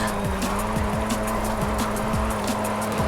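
A 2013 Wuling Sunshine drifts in Forza Horizon 5, its engine droning loud and steady while tire squeal rises and falls in repeated sweeps.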